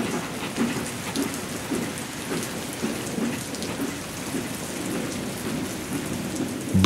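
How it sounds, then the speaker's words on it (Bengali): Steady rain falls with cold, stormy wind at a deserted railway station, a dense hiss with low rumbling gusts throughout, a sound effect in a horror story. "বৃষ্টি সমানে ঝরে চলেছে, সঙ্গে ঠান্ডা ঝোড়ো হাওয়া"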